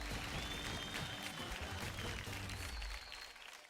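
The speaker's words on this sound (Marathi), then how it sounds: "जोरदार टाळ्या होऊन जाऊ द्या आपल्या अक्षतासाठी." A studio audience at a televised Marathi dance competition claps for a contestant, dense sustained applause filling the room at a steady level before easing slightly near the end.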